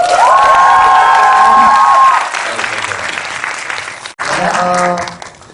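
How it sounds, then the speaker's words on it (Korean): Audience applause and cheering at a Moana film screening with Sohyang, loud clapping mixed with shouts and whoops, fading partway, then a brief cheer rising again near the end. "박수"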